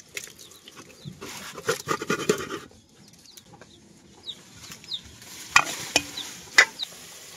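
Spices being fried and stirred in a pan for a Bangladeshi fish curry with potol and potatoes, a soft sizzle under scraping stir strokes, with hen clucks and other background noises nearby.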